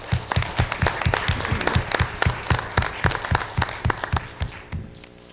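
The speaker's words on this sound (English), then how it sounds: "give a round of applause to Dr. Reel's 5th grade science class over at Atkinson Elementary" Applause at a school board meeting honoring a fifth grade science class, with loud, rhythmic, close claps standing out over the crowd's clapping before it thins and fades near the end.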